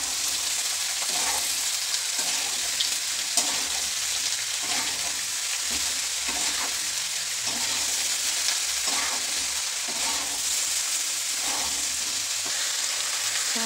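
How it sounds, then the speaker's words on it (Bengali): Potatoes frying in hot oil in a pan, a steady dense sizzle throughout with repeated stirring scrapes at irregular intervals. "তেলটা গরম হয়ে আসছে, তেলটাতে আলুগুলো ঢেলে দেবো"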